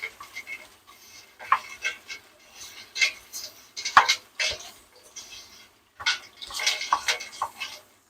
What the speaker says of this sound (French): On rajoute 2 livres environ de carcasses de crabe et on vient mélanger tranquillement.